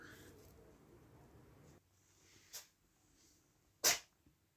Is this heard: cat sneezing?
yes